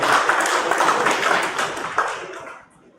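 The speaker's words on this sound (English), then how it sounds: "Everybody, let's give a round of applause." Audience applause at a live implementation support mission event, dense clapping throughout that thins and fades toward the end.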